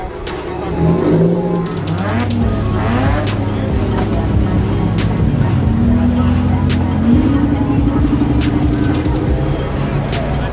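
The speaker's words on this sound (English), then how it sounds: "People are starting to do burnouts and revving their shit boxes." Several car engines rev loudly and rise in pitch at a car meet, with sustained roaring from tires doing burnouts and engines and a few sharp bangs over continuous crowd noise.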